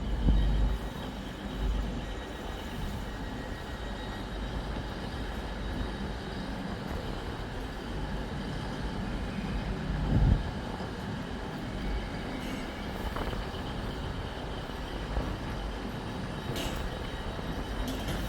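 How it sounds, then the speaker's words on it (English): A Class 221 Voyager train departing Newcastle station, a long steady rumble of engines and rolling wheels with a brief clank partway through and faint squeals near the end, with no talking. "any minute now, 221116 will be departing for all stations to Plymouth"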